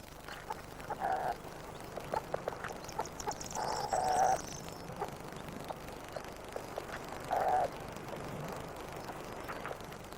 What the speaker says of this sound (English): The sound of the hens clucking and the cheeping of the chicks stimulates him to brood them.